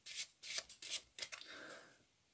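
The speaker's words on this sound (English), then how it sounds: "and give the packet a shuffle." A small packet of playing cards is shuffled by hand, several quick crisp riffling bursts close to the ear, ending in a softer trailing slide.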